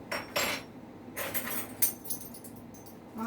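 A metal tablespoon clinks and rattles against other cutlery in a home kitchen during cookie baking, a few quick close jingling clatters spread over a few seconds with quiet gaps and no talk.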